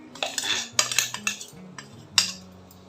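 A spoon stirs makhana kheer (lotus seed payasam with cardamom) in a pot, making close, irregular metallic clinks and scrapes with brief pauses between them.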